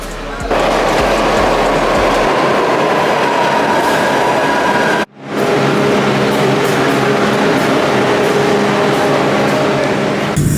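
A train rumbles loudly along the rails with a steady roar and faint rhythmic clacking, briefly cutting out before the rumble resumes; a voice is heard speaking.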